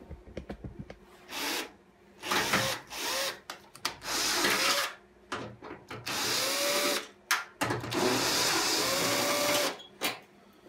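A power tool whirs in several loud bursts of a few seconds each while unscrewing the top screws of a washing machine, with short pauses and small metallic handling noises between runs.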